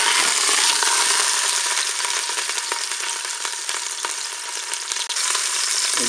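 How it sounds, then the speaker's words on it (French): A pork roast browns in a Cookeo multicooker pot, giving a loud, dense, continuous sizzle with scattered crackles and a light scrape near the end, close up with no talking. "on va faire dorer le rôti sur toutes ses faces"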